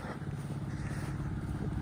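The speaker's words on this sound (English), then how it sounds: "got the engine on tick over" A farm irrigation sprinkler pump engine idles at tick over, a steady low rumbling throb that holds an even pulse throughout, close and fairly loud with no voices.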